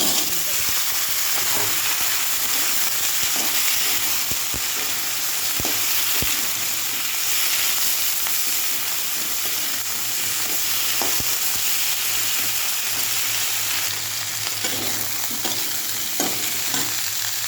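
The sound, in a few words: vegetable stalks frying in a pan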